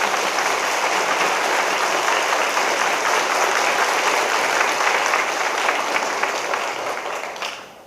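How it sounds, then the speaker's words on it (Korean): Big round of applause from a church congregation welcoming a guest speaker, steady and dense for several seconds before tapering off at the end. "우리 박수로 맞이하겠습니다."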